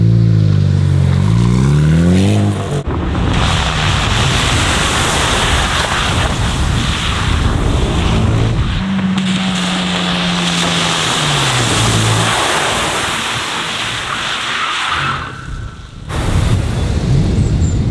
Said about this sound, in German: Der Wagen fährt so quer mit nassen Rädern